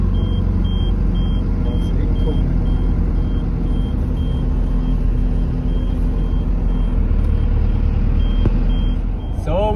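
Camper van driving off-road through sand in Saudi Arabia, a steady loud engine and rolling drone throughout with a regular high beeping repeating across the drive, close and continuous.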